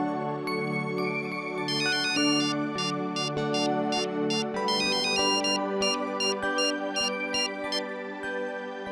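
A melodic phone ringtone plays during an outgoing call in a Hindi TV serial, a looping electronic tune with bright repeated tones that holds at steady volume with no talking over it.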